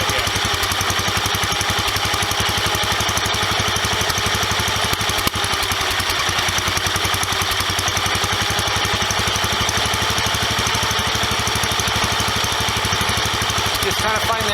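A 1976 Wheel Horse C120 garden tractor engine idles steadily and loudly up close, a continuous rapid mechanical chug with even firing, running alone without a break while its carburetor mixture is adjusted.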